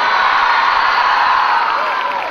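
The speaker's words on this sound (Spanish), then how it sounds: "Un gran aplauso a toda mi gente aquí adelante" A large concert audience at a show roars with cheering, whoops and applause, a loud, dense wall of crowd noise sustained throughout.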